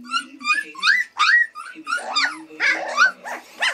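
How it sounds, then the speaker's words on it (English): Red standard poodle puppies about three weeks old make short whimpers, yelps and small growly squeals in quick bursts, close up and fairly loud, with a person talking softly over them. "that was really a mean growl"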